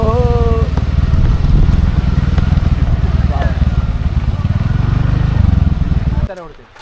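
A motorcycle engine rumbles steadily up close for several seconds, then cuts off abruptly, with brief speech over the noise.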